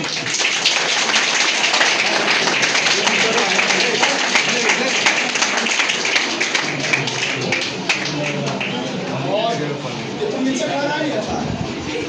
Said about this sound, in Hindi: चलिए आ जाइए, जोरदार ताली बजाइए।